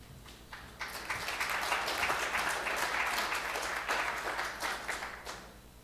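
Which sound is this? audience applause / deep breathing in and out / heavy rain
audience applause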